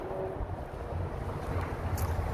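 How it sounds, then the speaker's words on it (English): Wind blowing across an outdoor home vegetable garden in February, a steady low rumbling gust buffeting the microphone throughout, with no other sounds standing out. "it's really windy today"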